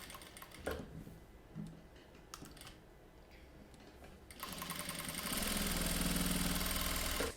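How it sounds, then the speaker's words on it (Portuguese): A sewing machine stitches a seam along both sides of a bag with nylon 600 filling. Quieter handling sounds come first, then a steady, loud mechanical whir runs continuously at close range with no talking. "Agora eu vou passar aqui uma costura dos dois lados."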